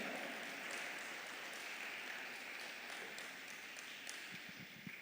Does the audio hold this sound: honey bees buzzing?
no